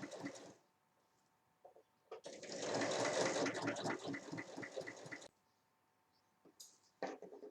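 A sewing machine runs steadily for about three seconds, stitching a seam on a fabric toy bin. Quiet pauses come before and after, with a few soft handling noises.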